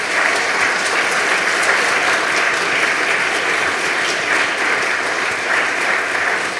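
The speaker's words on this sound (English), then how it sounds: "Please give him one big round of applause." Steady, dense applause from a lecture audience after a Holocaust memorial lecture, sustained at an even level throughout with no talk over it.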